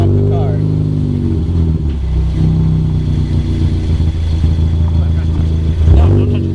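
A car with a muffler-delete exhaust idling and revving, a loud steady engine drone with a deeper swell near the end, heard up close at a car meet while people talk over it.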